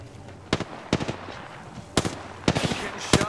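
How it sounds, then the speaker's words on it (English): Gunfire in Apex Legends crackles in several sharp bursts and single shots, some loud and close and others softer, spaced irregularly over a low background hum. "Getting shot at. I am taking fire."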